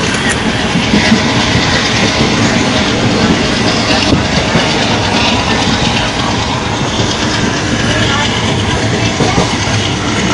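Interior of a moving passenger train, a loud steady rumble with rhythmic clickety-clack from the rails running throughout, with no clear speech over it.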